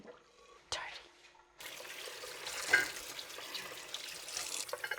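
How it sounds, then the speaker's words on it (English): Tap water runs steadily into a kitchen sink while raw pork belly pieces and a pot are rinsed, starting after a brief clatter and continuing as a constant close splash. "take this to the sink and wash every individual pieces and the pot"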